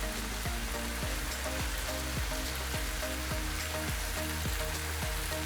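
Lobster sizzling in a pan with tomatoes and onion for a spicy Kerala-style roast, a steady dense crackle with faint rhythmic stirring or scraping knocks running throughout, no talk.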